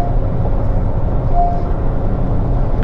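A 2022 Honda City V base model accelerates in top gear, its engine and road noise a steady low drone heard from inside the car, with no talk.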